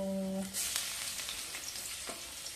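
Garlic hits hot oil with a close, steady sizzle that carries on evenly, briefly preceded by a short electronic tone.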